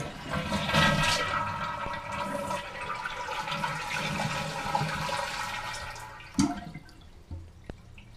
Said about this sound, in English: now I have the toilet hooked up to my water supply line, and now when I flush it,